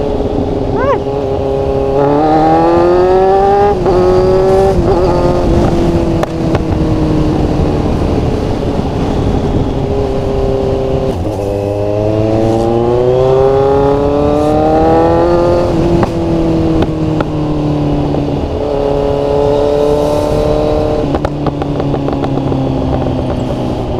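A Kawasaki Z1000 motorcycle with an Austin Racing or SC Project aftermarket exhaust roars close by, revving up and down through gears with a loud, raspy exhaust tone, steady wind noise and occasional speech underneath.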